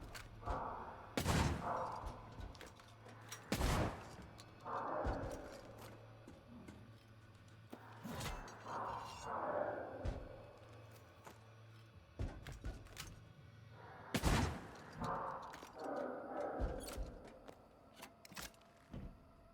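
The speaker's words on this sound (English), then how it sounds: "Can we just shotgun you, I guess?" Shotgun blasts in the horror game Tormented Souls 2, four or five sharp, loud bangs spaced a few seconds apart, each trailed by a mechanical rattle like a pump or reload, over a low steady hum.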